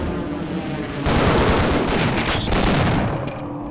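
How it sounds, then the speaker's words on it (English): Loud, dense burst of gunfire and explosive booms from the shooter game Half-Life: Decay, a steady roar of grenade blasts and shots that swells after the first second and fills the whole stretch. "I guess as soon as your grenade touches him, he explodes."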